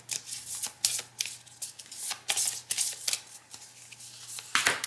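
A small deck of tarot cards being shuffled by hand, a run of crisp riffling and sliding card bursts in an uneven rhythm, close and fairly quiet, with no voices.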